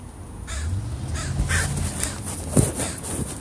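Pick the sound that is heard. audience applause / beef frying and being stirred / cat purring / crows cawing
crows cawing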